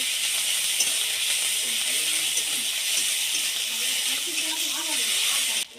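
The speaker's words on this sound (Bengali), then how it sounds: "দিয়ে হালকা ভেজে নেব।" Half-ground onion fries lightly in oil with a bay leaf for a cauliflower fish curry, giving a steady, close sizzle and hiss throughout while a voice speaks over it.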